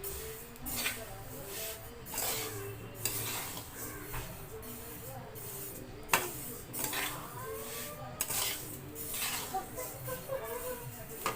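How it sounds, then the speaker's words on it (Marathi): Rhythmic scraping and clinking of a spatula stirring sesame seeds as they dry-roast in a pan, repeated strokes every second or so with a faint sizzle underneath. "दोन मिनटं फक्त फिरवते जे काही कच्चेपणा राहिला असेल"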